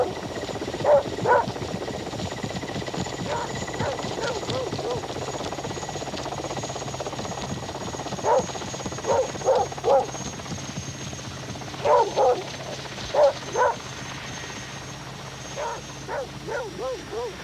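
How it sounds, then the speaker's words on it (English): A dog barks in short repeated bursts and yips over a steady helicopter drone, with people talking at times. "Deke dashed off towards his quarry, barking abuse"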